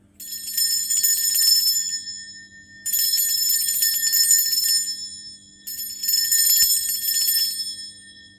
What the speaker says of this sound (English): Now, I'm going to ring a bell.